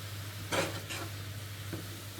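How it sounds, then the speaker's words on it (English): Brief scraping stir of a spoon through mushroom and red kidney bean chilli in a pan, two quick strokes and a faint third, close and soft over a low steady hum. "So we just going to stir this up a little."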